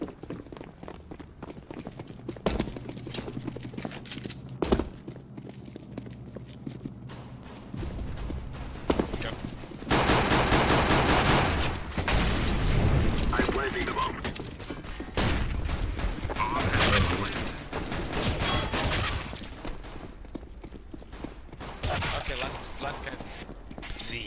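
Pistol gunfire in a Counter-Strike pistol round comes as scattered sharp shots and bursts amid game sound effects and footsteps, with voices talking over the action.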